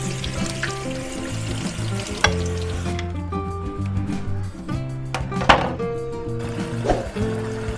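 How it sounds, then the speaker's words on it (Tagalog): Mung beans cooking in a pot for ginataang munggo are stirred, with a few scraping knocks and a soft simmering hiss under steady background music. "hahaluin lang natin tong munggos natin guys hanggang sa tumambot na talaga siya"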